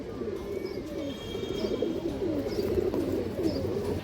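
Pure Indian high-flying Kaldom pigeons coo continuously in a low, burbling murmur, close by, with faint higher chirps above and no voices.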